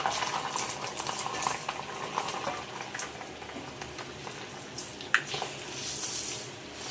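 Garlic and a spice masala fry in very hot oil for homemade amla pickle, a dense bubbling sizzle with stirring and a sharp clink near the end, close and steady without speech.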